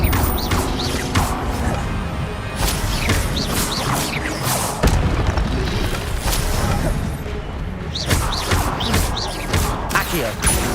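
Incendio fire spells are cast in Hogwarts Legacy amid busy combat, with repeated whooshing blasts, crashes and thuds layered over a constant dense clatter of battle effects.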